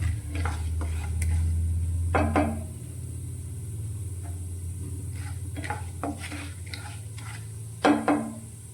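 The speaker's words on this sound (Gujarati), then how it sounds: "આ રીતે હલાવતા જઈ અને વઘારને આપણે સારી રીતે સાતળવાનો છે।" Mustard seed tempering sautéing in oil sizzles softly under a low hum, punctuated by several distinct scrapes and clinks of a spoon stirring against the pan.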